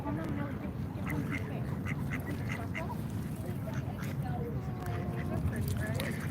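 Ducks quacking at a pond as bread is tossed to them, with repeated short quacks at varying distances over a busy outdoor background, and a person talking throughout.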